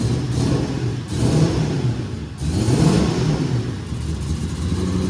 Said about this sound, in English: Give it a little bit of a rev, not too crazy